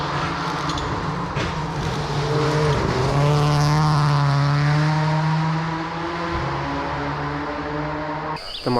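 A rally car charges along a gravel stage, its engine growing louder and revving through shifts as it sweeps past close by, then fades away.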